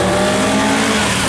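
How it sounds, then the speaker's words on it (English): A Lotus Elan 26R race car with a 1600 engine roars past at a speed trial, a loud, close, continuous engine blare with a rising rasp and no speech over it. "This is his Lotus Elan Supercross, the 26R"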